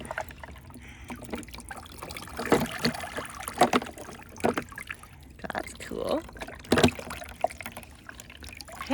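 Water is scooped and poured over toy Hot Wheels cars at a water table like a little rain shower, with trickling and splashing bursts under close children's and adult talk.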